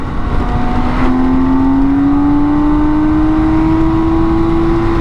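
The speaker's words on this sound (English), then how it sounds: "I can see a car coming towards me in the distance, so I'm going to have to wait for that to go past" A car on a country road draws steadily nearer, heard over the constant engine drone and wind of a BMW K1600 GTL motorcycle, with a smoothly rising tone as it approaches.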